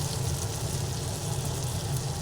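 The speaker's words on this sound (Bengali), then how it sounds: "সব এইবার একটু ভালোভাবে একটু নাড়াচাড়া করে ভেজে নিই" Ginger and spices frying in hot oil in a pan for a Bengali foli fish and eggplant curry, giving a steady, close sizzle that hisses evenly throughout with no talk.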